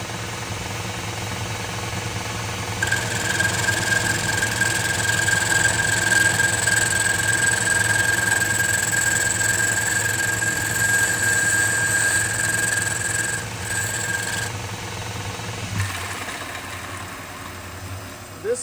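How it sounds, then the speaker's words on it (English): A drill with a carbide tip bores into a woolly mammoth tooth, giving a steady, close, high-pitched whine over a low hum that runs for about twelve seconds and then stops abruptly. "And you want to use a really good carbide tip on the end."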